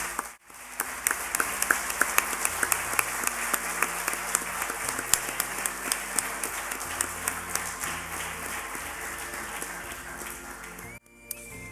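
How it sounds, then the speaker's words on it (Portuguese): Sustained audience applause at a charity concert on São Jorge island, a dense, steady wash of many hands clapping for over ten seconds before cutting off abruptly near the end. "Uma salva de palmas, por favor."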